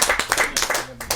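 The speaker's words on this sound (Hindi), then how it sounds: "जोरदार तालियों के साथ आमंत्रित करिए" An audience bursts into brisk, close clapping to welcome a poet onto the stage at a Hindi poetry show, with the applause dense and uneven throughout.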